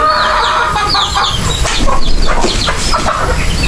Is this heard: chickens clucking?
yes